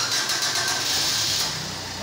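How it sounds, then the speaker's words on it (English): An IC engine, started remotely through an Arduino Nano over Bluetooth from a mobile phone, catches and runs with a loud, busy mid-pitched clatter that settles slightly toward the end, with voices faintly in the background. "He has started the engine. Now the engine started running."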